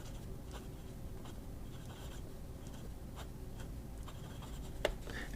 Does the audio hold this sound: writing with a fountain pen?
yes